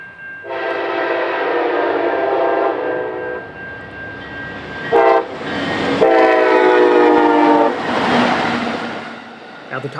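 CN freight train M394 sounds its horn in two long, loud blasts at a busy junction, while heavy railcars rumble and wheels roll steadily beneath the horns.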